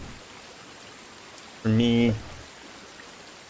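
Steady hiss of rain falling in the video game Sons of the Forest, continuous and moderately soft, with a short spoken phrase cutting in over it midway.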